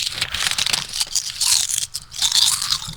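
Crunchy cornflakes being eaten, with loud, close, continuous crunching and chewing that comes in uneven bursts, with no talk.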